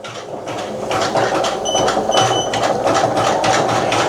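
A single-needle embroidery machine stitches steadily, its rapid mechanical chatter picking up pace as the speed is raised, continuous and close with faint whirring.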